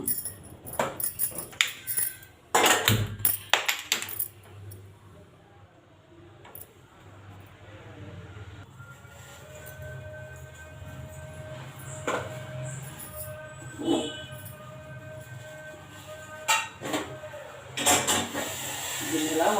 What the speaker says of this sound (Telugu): దానికోసం స్టవ్ పైన గిన్నె పెట్టేస్తున్నాను